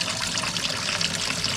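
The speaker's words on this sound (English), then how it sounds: "at least we got some water to clean with and shower with" Water trickles steadily from a low-pressure tap at a dispersed campsite in the Ouachita Mountains, a continuous close hiss and dribble with no pauses and no talking.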